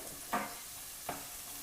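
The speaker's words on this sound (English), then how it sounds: "I'm adding the garlic, the chili, the anchovy, and I'm stirring it all to combine." Garlic, chili and anchovy sizzle in a pan with a soft steady hiss, while a utensil stirs them in two brief scraping strokes.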